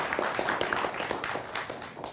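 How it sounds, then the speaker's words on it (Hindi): An audience at a televised Hindi debate on hijab welcomes panelists with steady, moderately distant clapping, many hands blending into a continuous patter. "तालियों के साथ इन सबका अभिनंदन करिए"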